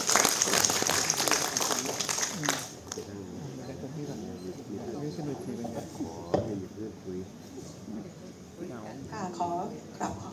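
An audience at a Thai International Literacy Day ceremony claps to welcome a speaker, a busy burst of applause for under three seconds that fades as a voice begins talking over a microphone.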